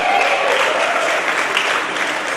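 A large crowd of hundreds claps in steady, full applause, a dense wash of many hands that stays loud throughout.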